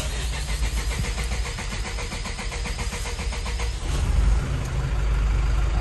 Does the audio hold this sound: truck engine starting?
yes